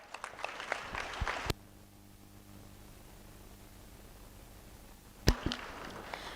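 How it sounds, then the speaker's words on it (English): An audience applauds graduating students at a college career launch event. The clapping is faint and distant, breaks off into a quiet hum, then returns briefly near the end. "Please give them a huge round of applause."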